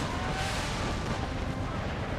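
Artillery fire in the Empire: Total War mod Brothers vs. Brothers, a dense, steady roar of cannon booms and battlefield rumble that blends into a continuous loud wall of noise.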